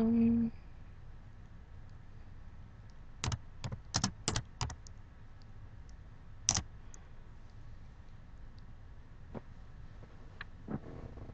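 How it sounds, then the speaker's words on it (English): Typing on a computer keyboard, quiet and close, with a cluster of sharp key clicks in the middle and a few scattered taps later over a faint room hum. "I'm sorry about the typing."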